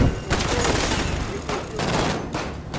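A minigun in the video game Modern Warfare fires a dense, continuous roar of rapid gunfire, loud and close, pulsing through the whole stretch.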